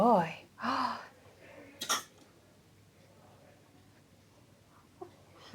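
A young child gives a few rough coughs and throat-clearing sounds during nebuliser treatment at a GP surgery, close and short, with quiet hiss and soft adult voices in between.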